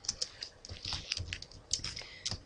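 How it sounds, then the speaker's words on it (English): Typing on a computer keyboard during a C# programming tutorial, a rapid irregular run of close, crisp key clicks with no talking. "why are you typing x equals 5?"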